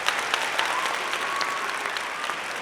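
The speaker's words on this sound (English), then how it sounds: "This applause is for you" Steady applause from a crowd, dense and even throughout with a faint tonal whistle drifting under the clapping.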